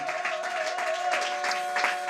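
A soft, fairly distant patter of hands clapping from an audience at a women's church conference, even and sustained, with a faint steady tone running underneath.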